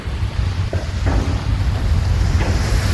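Big ocean waves surge onto a lonely sea beach backed by dense forest near Sitakunda, a steady loud wash of surf with gusty wind buffeting the microphone throughout and a few brief splashes rising over the roar.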